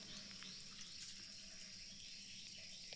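Water runs steadily from a tap while a vessel is rinsed and filled in a home kitchen sink, a constant faint hiss and splash that continues alone throughout.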